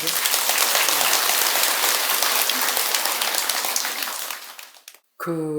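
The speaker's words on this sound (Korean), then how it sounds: "스님 생각이 맞다는 사람은 박수 한번 쳐보세요" A temple audience at a Buddhist dharma talk at Beomeosa claps together in dense, steady applause for several seconds, then fades out as a speaking voice returns.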